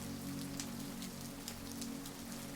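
Steady rain falls at night outside a tavern, a dense even patter of drops on surfaces with a low constant hiss and no voices.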